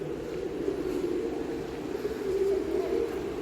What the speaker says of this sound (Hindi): कुछ कबूतर भी है यहाँ पे